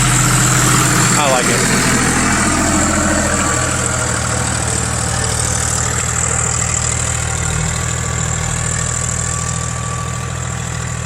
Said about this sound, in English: Tractor handles that plow with absolutely no problem whatsoever.